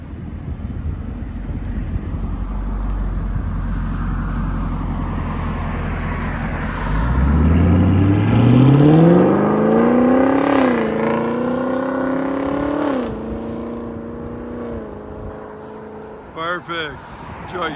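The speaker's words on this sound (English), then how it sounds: "Chevy Camaro SS, fully true dual, 2 1/4, X-pipe delete, everything deleted" A 2016-2018 Chevy Camaro SS with full true dual 2 1/4 exhaust and X-pipe delete rumbles at a deep idle, then revs up hard and holds a loud, rising roar before settling, with a quick sharp blip near the end.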